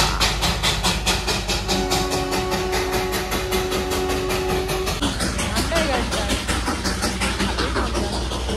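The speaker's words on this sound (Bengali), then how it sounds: "একটা ট্রেন এতক্ষণ দাঁড়িয়েছিল, এবার ট্রেনটা ছেড়ে দিল।" A train pulls away from a station after standing there, giving a steady, loud rumble of engine and rolling wagons that continues throughout, with people talking nearby.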